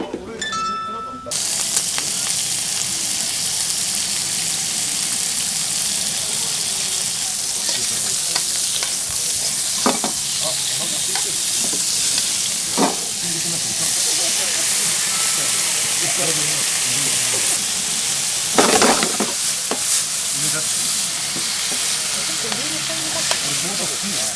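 Abura-fu stir-fried in a pan in a Tokyo restaurant kitchen in Koenji, a continuous loud sizzle with scraping and clattering from tossing and stirring, while people talk over it.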